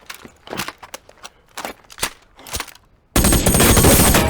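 Gunfire in a movie shootout scene sounds as a series of sharp separate shots and short bursts, then a sudden dense wall of loud continuous automatic fire in the final second.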